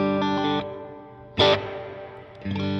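An electric guitar played through a Line 6 Helix Mesa Lonestar preset with heavy reverb: sustained distorted chords ring out, a bright strummed burst in the middle, then another chord, each trailing a wash of reverb.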